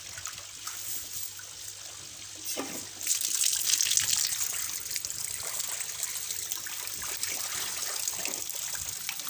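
Tap water pours into a fish tank to flush out leftover food scraps, first as a light trickle and then as a steady, louder gushing stream after a few seconds, close and continuous.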